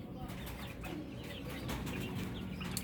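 Chickens clucking beneath cages on a backyard farm where string beans grow over the cage tops, a steady low clucking bed with a voice talking over it and light rustling.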